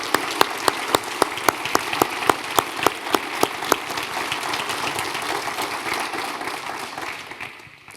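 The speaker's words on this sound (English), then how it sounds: "Please join me, everyone, in giving all of these individuals a round of applause to express your appreciation as well." Commencement audience at Wright State University Lake Campus applauding, a steady wash of clapping with a few distinct close claps in regular rhythm at first, fading toward the end.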